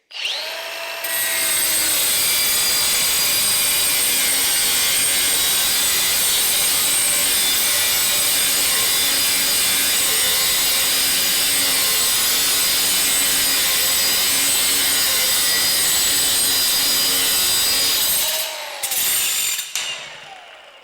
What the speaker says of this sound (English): Yeah, cuts hard bolts, no problem.